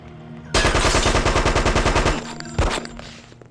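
Rapid burst of automatic gunfire in the Hitman: Codename 47 video game, about twenty loud shots in steady rhythm for over a second and a half, then a short pause and one more sharp crash-like burst that trails off.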